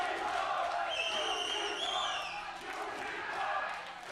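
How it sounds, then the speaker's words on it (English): A rowdy arena crowd at a League of Legends EU LCS 2016 regionals esports match chants and shouts in a sustained roar, with commentators talking over it. "Crowd is getting rowdy."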